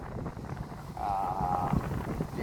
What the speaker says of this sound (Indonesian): tiupan angin juga lumayan ini guys